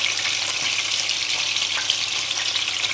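Orange sauce bubbles in a pan beside duck breast fat, giving a steady, dense hiss and sizzle that stays constant and close without pause or voices.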